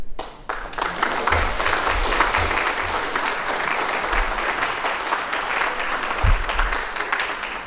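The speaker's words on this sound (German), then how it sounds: "Ich hoffe, dass der Beifall nicht Herrn Juncker gilt, sondern mir" Crowd applause at a political party founding reception in Kiel, Germany, sustained clapping from a large room that rises, holds steady for several seconds and then gradually thins, with occasional low thumps from the microphone.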